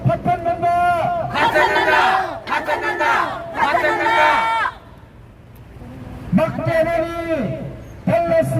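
A protest crowd outside the National Assembly in Korea, opposing a medical bill, shouts slogans in unison, three loud chanted bursts, a brief lull with only faint background noise, then another chant starting up.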